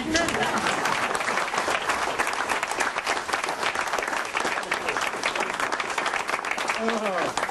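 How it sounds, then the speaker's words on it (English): A studio audience breaks into steady, dense applause that fills the whole stretch at an even level, with a voice briefly heard near the end. "could I have a round of applause?"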